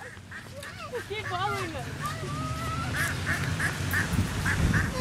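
Ducks quack repeatedly and insistently at close range as a group chases people outdoors, with excited voices talking and calling over the birds throughout.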